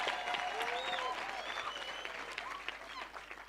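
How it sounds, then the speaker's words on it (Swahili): A crowd claps steadily at a church-style gathering with needy children in Eldoret, the applause dense and sustained throughout with faint cheering mixed in, no clear speech on top. "Makofi kwa Yesu."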